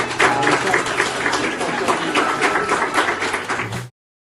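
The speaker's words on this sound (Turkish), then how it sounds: "Alkış." Crowd applause at the opening ceremony of a Kindness Corridor during Kindness Week in Istanbul: steady, dense clapping from many hands that carries on evenly, then cuts off abruptly.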